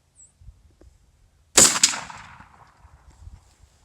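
A single loud shotgun blast firing a long-range buckshot load outdoors, a sharp crack followed by a quick second report and a rolling echo that fades after a quiet lead-in.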